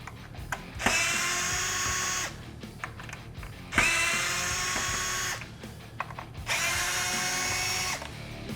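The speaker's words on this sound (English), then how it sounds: "To remove the bracket, we just need to take off these 3 Phillips screws." Cordless power drill backing out three Phillips screws from a taillight bracket on a Jeep Wrangler JL, three long close whirring runs separated by brief clicks and pauses.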